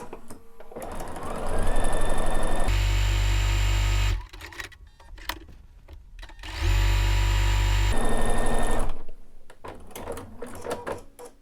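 A Bernina sewing machine with an edge stitch foot stitches tucks in two loud, steady whirring runs of about one and a half seconds each, separated by quieter handling sounds and short whines of the machine.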